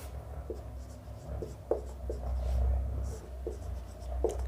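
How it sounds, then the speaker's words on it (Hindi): Hand writing during a group theory lecture on permutation groups, a pen or marker making repeated short scratchy strokes at a steady, unhurried pace, fairly close, with faint room hum and no talk over it. "यहां लिख रहा हूं मैं"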